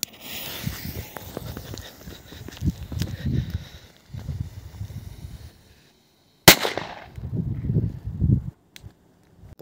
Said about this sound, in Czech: Petarda Viper 1.